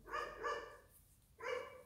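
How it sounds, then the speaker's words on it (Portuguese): Three loud, harmonic barks from a dog nearby, two in quick succession and a third after a short pause, with no one talking over them. "tem um cachorro insuportável que aqui nunca cala a boca"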